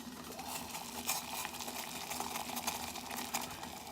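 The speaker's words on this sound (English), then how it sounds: "Okay, now we have a rolling boil. I'll just like to show you the boil." Water churns at a rolling boil in a pot on a small survival stove, a faint, continuous bubbling rumble mixed with a steady burner hiss and no voices.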